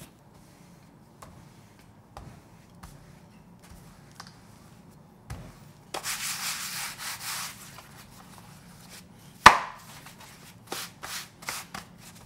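Bun dough for flower-shaped steamed buns is rolled out with a wine bottle, giving soft rubbing and rolling swishes with light knocks, close and fairly quiet.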